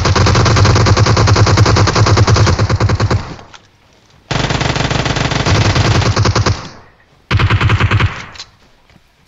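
Sustained bursts of rapid automatic gunfire from PUBG Mobile, three long volleys separated by short pauses, loud and close with no talking.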